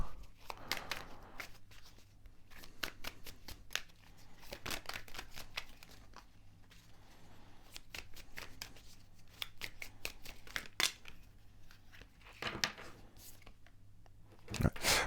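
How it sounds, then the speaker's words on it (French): Tarot cards are drawn, slid and laid down on a table during a reading, giving soft, close papery flicks and taps in scattered bursts, quiet throughout. "Prendre une dernière carte. Je vais recouvrir."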